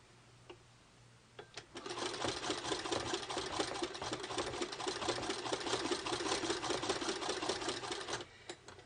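Hand-cranked sewing machine stitching batting for a Victorian handbag: quiet at first, then a fast, even run of needle clicks and mechanical whir lasting several seconds before stopping abruptly, close and clear.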